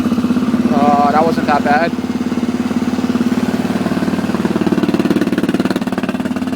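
A Honda 400ex ATV on choke in below-freezing cold idles with a steady, rapid thumping pulse, loud and close, as someone speaks briefly over the engine at the start.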